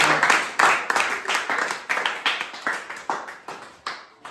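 Students in a classroom clap for a classmate, a burst of applause with distinct, fairly close hand claps that stays steady for several seconds before trailing off.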